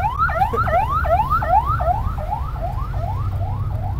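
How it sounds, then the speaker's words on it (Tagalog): An ambulance siren in a rapid yelp pattern, its rising and falling whoops repeating about three times a second, loud and fairly close, fading slightly over the last couple of seconds above steady traffic rumble. "Mga ambulansya"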